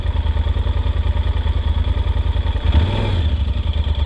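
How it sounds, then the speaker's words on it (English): Motorcycle engine running steadily with a rhythmic clatter, then a brief pulsing surge as the rear brake is applied and the ABS engages, close and loud with no talking. "when I hit the rear brake and it makes that noise? It's probably ABS."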